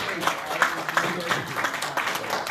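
Audience members at a live political broadcast clap in a loose, continuous wash of hands with scattered sharper claps, while voices carry on underneath.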